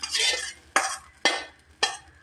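A spoon scrapes and stirs grated coconut mixture roasting in a pan for papaya erissery: four distinct stirring strokes with a dry sizzle, close and moderately loud, with no voices.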